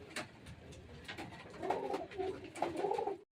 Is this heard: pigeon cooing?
yes